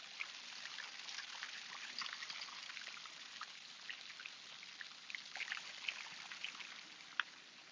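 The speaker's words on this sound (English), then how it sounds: "you can hear the beautiful waterfalls instead" Steady watery rush of waterfalls fills the whole span, a continuous even wash with scattered trickling splashes, fairly faint and distant, with no voices over it.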